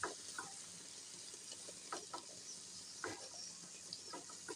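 Dried fish masala with new potatoes, tender stalks and eggplant cooks in a pan, giving a faint steady sizzle broken by soft periodic stirring scrapes, close and quiet with no talk.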